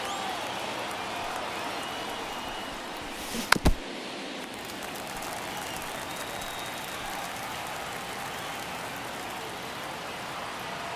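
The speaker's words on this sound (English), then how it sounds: "And this crowd really locked in right now." Steady crowd noise from a virtual ballpark crowd in MLB The Show 24 fills the whole stretch as a dense, rain-like roar, with one brief sharp burst near the middle; no one speaks over it.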